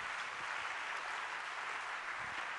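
A church congregation applauds in praise during a worship service. The clapping is steady, dense and sustained, with no gaps and no voices on top of it.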